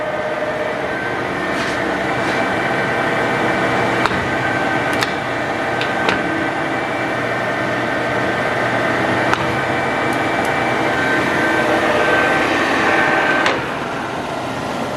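A Summit engine lathe with a 19-inch swing and 80-inch bed runs steadily, a smooth mechanical whir with a faint whine and a few light clicks, stopping abruptly near the end.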